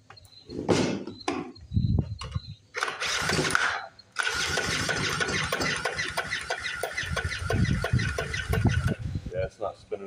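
An old two-stroke portable generator engine is cranked in several short bursts, each a rough mechanical whirring spin that stops and restarts, then a longer cranking run, close and fairly loud, with some speech mixed in.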